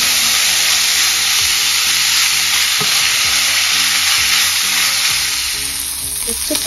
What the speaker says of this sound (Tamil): சிக்கன் துண்டுகளை 2-3 நிமிஷத்துக்கு ஹை ஃப்ளேம்ல வச்சு நல்லா ஃப்ரை பண்ணிக்கலாம்.